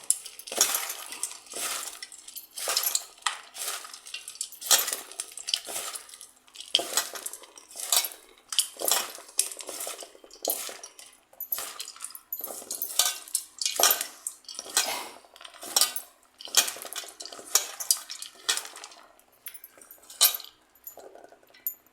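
Road-side style masala puffed rice, salted and tossed by hand in a bowl, gives crisp, crunchy rustling bursts that come in quick irregular handfuls. The sound is close and clear with no talk.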